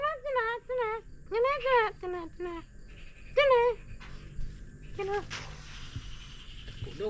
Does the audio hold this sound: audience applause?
no